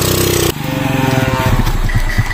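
A motorcycle pulls away from a roadside checkpoint, its engine loud and close, revving and climbing in pitch as it rides off.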